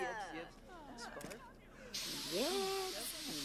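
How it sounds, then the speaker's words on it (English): Spray shaving of a mustache in The Sims 4: Get Famous gives a steady, bright hissing burst in the second half, while Sims chatter in their made-up speech throughout. "They always spray shave my mustache."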